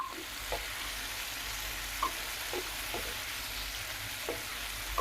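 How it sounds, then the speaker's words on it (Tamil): Tomatoes for tomato kuzhambu sautéing in a pan give a steady, moderately loud sizzle, broken by a few brief clicks and scrapes from stirring. "நல்லா தக்காளி வதங்கட்டுங்க"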